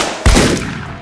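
A single sharp gunshot in the video game Deadbolt: one loud, close report with a brief booming tail, heard on its own.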